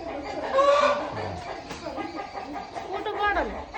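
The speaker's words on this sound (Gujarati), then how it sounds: "જો કુકડાઈ બોલે રહા અહીંયા" A rooster calls near a farmyard, with a clucking, crowing cry rising over a background of people chatting.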